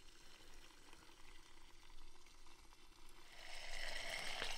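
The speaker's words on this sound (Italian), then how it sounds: "Vediamo se riesco a farvi vedere un attimo cosa bolle in pentola. Spezzatino di pollo" Chicken stew with sausage boils in a pot over an outdoor camp stove in the woods, a faint low bubbling that grows louder and hissier toward the end.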